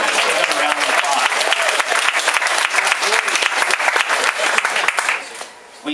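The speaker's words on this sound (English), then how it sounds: "Let's get a round of applause." Audience applause honoring school athletes, a full, steady round of clapping from a large room that carries on for about five seconds before quickly dying away.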